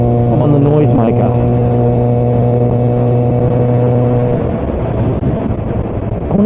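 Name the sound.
Kawasaki ZX4R motorcycle engine revving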